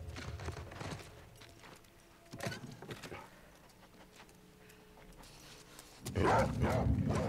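A dog barks in The Last of Us Part II video game, with a few short bursts of barking over quiet ambience. The last burst, near the end, is louder.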